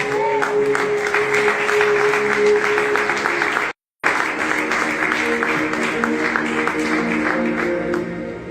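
Congregation at a church service applauding, a loud, dense, sustained round of clapping with crowd voices mixed in and a brief full dropout near the middle.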